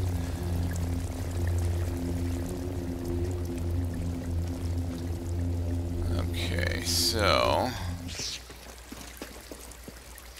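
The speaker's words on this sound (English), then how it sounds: "There's water all the way through here." Water flowing steadily through a passage in Star Wars Jedi Fallen Order, a continuous rushing pour with a low hum underneath. Someone talks briefly near the end as the flow drops away.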